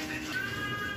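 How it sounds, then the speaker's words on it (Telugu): A cat lets out one brief, faint meow at a birthday party, with quiet room noise behind it. "మష్రూమ్ అది పెట్టారు ఇంకో పిల్లి."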